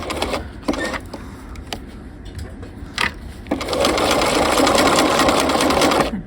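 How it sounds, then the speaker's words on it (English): A sewing machine stitches along the edge of jacket canvas, first in short bursts with pauses, then running steadily in a continuous rapid whir for the final few seconds. "I'm just sewing right on the edge of my canvas"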